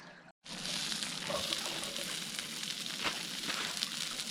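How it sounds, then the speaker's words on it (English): Steady, loud sizzling of onions sautéing in a frying pan at an outdoor camp, a continuous crackling hiss after a brief silent gap at the start. "we'll just saute the onions to golden brown again"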